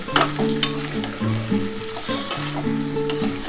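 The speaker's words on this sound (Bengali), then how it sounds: "একটু জল দিয়ে কষাচ্ছি, নাহলে কড়াটার মধ্যে লেগে যেতে পারে" Potato and pointed gourd curry stir-fried in a wok with a splash of water, a steady close sizzle with repeated scraping stirs of a spoon against the pan.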